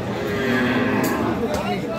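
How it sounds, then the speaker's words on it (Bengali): Sahiwal cow with her calf at a busy cattle market, a low lowing moo rising over a dense crowd murmur and clatter of livestock, continuous and fairly loud throughout. "আমরা এখানে কিন্তু একটা চমৎকার কিন্তু একটা গাভী ও বাছুর দেখতেছি"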